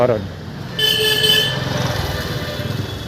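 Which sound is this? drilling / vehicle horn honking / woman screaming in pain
vehicle horn honking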